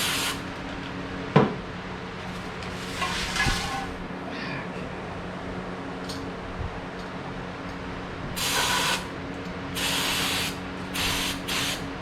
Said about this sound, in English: let's get the old carb cleaner here. Yeah, she works.